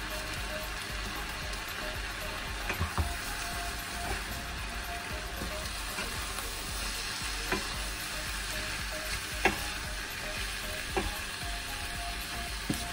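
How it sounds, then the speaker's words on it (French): Rice with chicken and ham sizzling in a pan while being stirred, a steady crackle broken by regular spoon scrapes and taps, with no talking. "Je mélange le tout."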